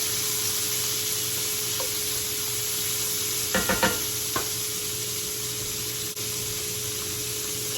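Onions, carrots and celery go into a hot pan for country-style beef shanks, making a steady frying hiss with a brief cluster of stirring knocks in the middle.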